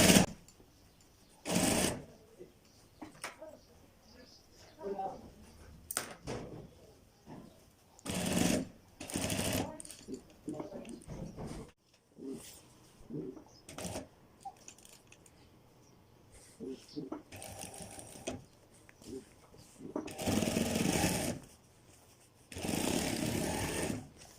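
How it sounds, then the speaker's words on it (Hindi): Electric sewing machine stitching a shirt, running in repeated bursts of rapid mechanical whirring separated by pauses, loud and close. "यहाँ से अब हमने अपनी स्टिचिंग का आगाज़ करना है।"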